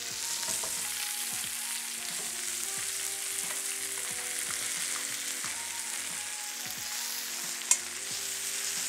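Rib eye steak frying with butter in a pan gives a steady, close sizzle and crackle throughout, with a sharp pop near the end and no voices.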